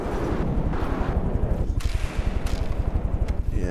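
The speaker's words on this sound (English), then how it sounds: "And there we see the torpedoes dropping in there." Torpedoes launching and striking in a naval video game battle: a dense, continuous rumble of booming impacts and gunfire-like blasts, loud and close throughout.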